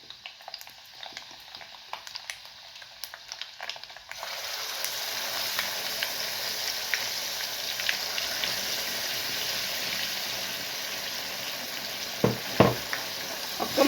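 Gongura chutney stirred into hot oil tempered with garlic and spluttered mustard seeds, giving a steady close sizzle with scraping stirs after a quieter start, and a few louder clanks near the end.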